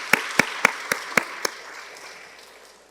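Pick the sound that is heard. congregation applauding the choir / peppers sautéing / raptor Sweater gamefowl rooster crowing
congregation applauding the choir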